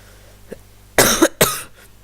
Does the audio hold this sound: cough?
yes